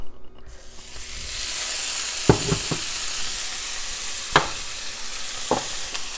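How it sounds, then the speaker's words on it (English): Meat browning in about a tablespoon of hot oil for stroganoff, a constant close hiss with a few sharp clinks and scrapes of stirring in the pan. "I have about a tablespoon of oil maybe in here, and this is going to sizzle."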